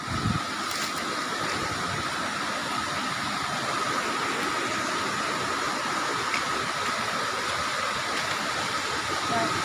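A strong river current rushes steadily near Mount Talamitam, a constant, even wash of flowing water with no pauses, fairly close and moderately loud.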